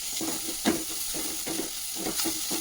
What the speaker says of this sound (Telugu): మెంతుకూర వేసుకున్నాం దీన్ని కాస్త వేగనిద్దాం